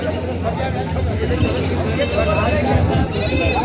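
Goats bleat again and again at the crowded Khandoba goat market in Parbhani, Maharashtra. The calls are close and mix with steady crowd babble and someone talking nearby.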